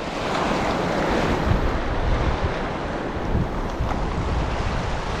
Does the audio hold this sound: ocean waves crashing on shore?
yes